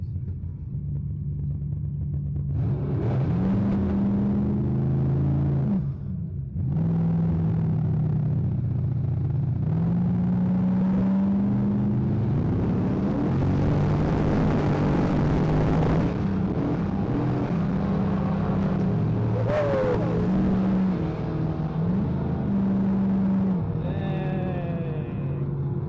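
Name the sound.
drag racing car revving on foot brake with no rev limiter, spinning slick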